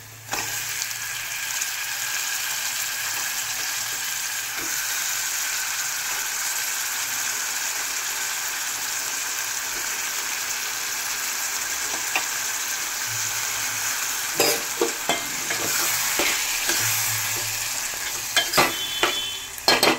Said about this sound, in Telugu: కొంచెం ఫ్రై అయినాక టమాటా ముక్కలు వేసుకున్నాం.